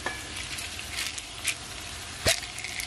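Fresh thyme and garlic cloves sauté in a pan for a Jamaican escovitch fish dish, giving a soft steady sizzle with a few brighter crackles and pops, alone with no talking.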